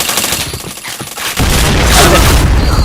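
A loud grenade blast in a first-person video game shooter, a sudden heavy boom that erupts after a quieter stretch of distant gunfire, then a sustained rumbling roar with crackling debris.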